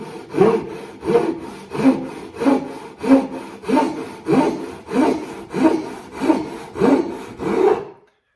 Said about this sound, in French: on va voir maintenant la différence avec la vraie scie à tronçonner.